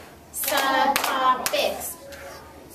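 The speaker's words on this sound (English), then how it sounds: "Let's clap and blow that off." Classroom children clapping in rhythm while chanting a vocabulary word together, several sharp claps under loud group voices, close and lively.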